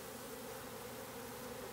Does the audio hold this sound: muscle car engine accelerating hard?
no